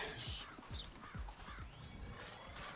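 Birds caw a few times in the Tokyo Jungle video game, scattered calls over faint game effects and low thumps, quiet and fairly distant.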